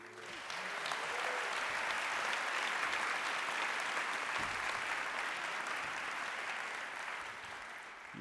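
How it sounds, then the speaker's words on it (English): Steady applause from a large audience at a college presidential inauguration fills the hall, a continuous wash of many hands that holds evenly for several seconds before easing slightly, heard somewhat distant and soft. "You get to applaud yet again."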